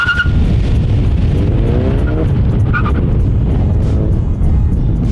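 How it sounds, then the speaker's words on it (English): A 2019 Volkswagen Golf GTI with a 6-speed manual accelerating hard, its engine roaring loudly and steadily up close alongside a brief tire-squeal-like whine. "with that acceleration I just did there with the Golf GTI"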